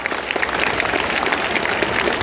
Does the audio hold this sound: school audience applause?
yes